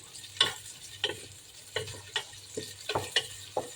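Ginger sizzling in a pan and being stirred, heard as quiet scraping strokes in an uneven rhythm over a soft, low sizzle.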